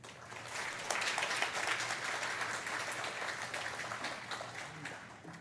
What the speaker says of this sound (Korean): 우리 조병일 목사님 나오실 때 큰 박수로 환영해 주시기 바랍니다